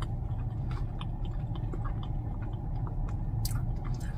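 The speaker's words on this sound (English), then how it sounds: "So we're gonna go ahead and take a bite." Close, moist chewing of a McDonald's Oreo Cookies and Crème pie, soft squishy bites repeating over a low steady background hum.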